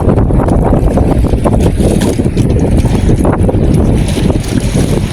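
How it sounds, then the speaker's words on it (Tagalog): Strong, steady wind roars and buffets the microphone without pause, with a faint wash of water beneath it. "Lakas na naman yung hangin."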